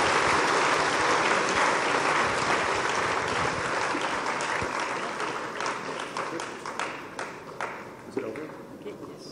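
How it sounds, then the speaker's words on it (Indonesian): An audience at a public seminar applauds, dense sustained clapping that is loud at first and thins into scattered claps before fading. "Mari kita memberi aplaus yang hangat buat Dr. McConnell."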